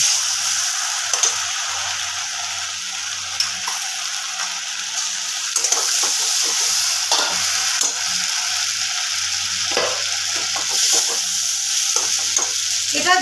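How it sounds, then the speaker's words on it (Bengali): A ground paste of coriander, cumin and chillies goes into a hot frying pan for a chhana dalna, bringing a loud, steady sizzle with scraping stirs and clatter over a constant frying hiss. "যে মশলাটা বেটে রেখেছিলাম সেটাও দিয়ে দেবো"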